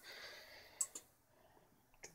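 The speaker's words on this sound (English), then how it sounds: "you can hear the relays clicking over there as well" Relays in a pelican crossing doorbell clicking, a few sharp soft ticks spaced apart over a quiet background, heard from a short distance.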